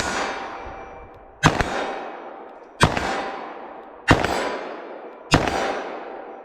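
A .357 Magnum pistol fires four sharp shots into ballistic gel at an outdoor range, each crack spaced about 1.3 seconds apart and trailing off in a long fading echo, with no speech.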